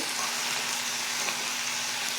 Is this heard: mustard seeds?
yes